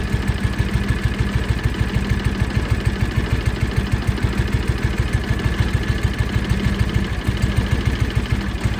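A John Deere Gator 6x4 utility vehicle's engine runs rough on only one cylinder, a close, loud, uneven low chugging idle with rapid repeated pulses throughout.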